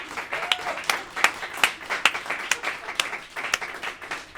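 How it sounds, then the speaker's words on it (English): Scattered handclaps at a virtual charity gala program, a few sharp distinct claps spaced roughly every half second, fairly close and alone with no talk. "You're supposed to applause."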